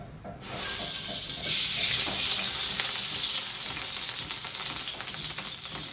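Cooking oil sizzles in a hot pan, a steady bright frying hiss that starts after a brief quiet moment and holds loud and close throughout.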